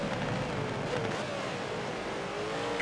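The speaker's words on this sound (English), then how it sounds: "Lorry has a good old wheel spin" A GTE-class race car spinning its wheels in a Silverstone racing video game, a rising engine whine with tire noise, moderately loud over a steady background of other cars.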